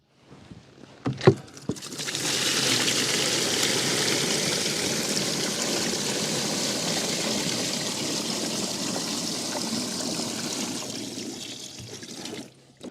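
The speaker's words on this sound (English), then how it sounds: "I'm just pressing down, and I can see water coming out" Water dribbling and trickling out of wet laundry pressed down by hand in a van, a steady close watery wash lasting about ten seconds with no talking.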